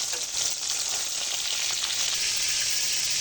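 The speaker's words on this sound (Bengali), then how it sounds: "সব ইলিশ মাছগুলো দেখুন আমার কত সুন্দরভাবে ভাজা হয়ে গেছে।" A short stretch of hilsa fish sizzling in hot oil, a close, steady crackle with no voices over it.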